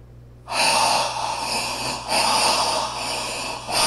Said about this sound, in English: Heavy breather.